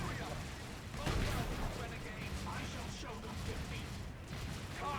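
Gunfire in the Dawn of War 3 strategy game as scouts gun down Eldar snipers: dense, rapid bursts of shots blending with battle clatter, sustained across the clip under a commentator's voice.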